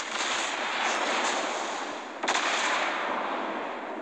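Battleship guns firing in the naval game World of Warships Blitz, a Nagato battleship at tier 7, heard as a loud sustained roar of gunfire with a sharp extra blast partway through.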